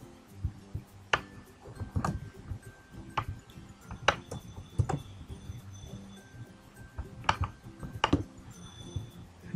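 Typing on a computer keyboard while writing a router script, scattered clicky keystrokes at an uneven pace, close and fairly quiet, with no voice.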